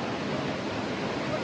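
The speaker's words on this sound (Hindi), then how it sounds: "ये लो, दिस इज द वाटरफॉल" Harnoi Main Waterfall in Pakistan roaring nearby, a dense steady rush of falling water with no break.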